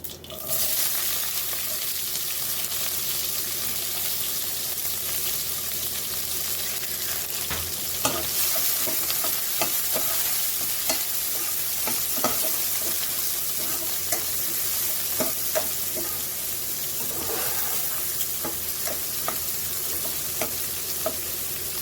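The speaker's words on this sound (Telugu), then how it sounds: "ఆవాలు అయితే వేగుతూ ఉన్నాయి. దీంట్లోకి ఎర్రగడ్డలు పచ్చిమిర్చి వేసి ఫ్రై చేసుకుంటాము." Onions and green chilies frying in hot oil with mustard seeds for an Andhra-style boti fry, a loud continuous sizzle with popping crackles and occasional stirring clinks.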